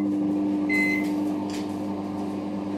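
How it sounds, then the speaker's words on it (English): A faulty microwave oven hums steadily with a constant electrical drone, joined briefly by a high beep and a soft clunk. "And I'll put this in the microwave for like 40 seconds"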